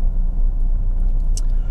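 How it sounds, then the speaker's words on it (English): A heavily loaded tar lorry grinds slowly up a steep hill, its engine a steady low rumble that stays close and constant, with a brief faint squeak partway through. "See the lorry? It's a tar lorry"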